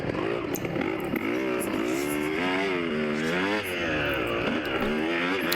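A motocross motorcycle racing around a track, its engine close and loud, repeatedly revving up and easing off through gear changes in a continuous wavering whine.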